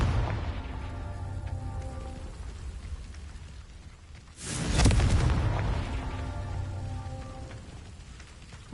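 Confringo spell blast in Hogwarts Legacy, a single booming explosion midway over a steady rain-like ambient backdrop.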